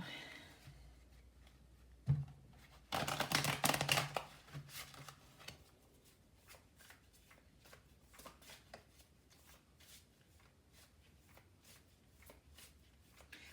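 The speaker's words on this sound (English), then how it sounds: "Another shuffle." Tarot cards being shuffled in a few quick riffling bursts, close and crisp, followed by softer scattered taps and handling sounds.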